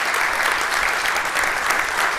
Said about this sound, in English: So let's give our panelists a nice round of applause.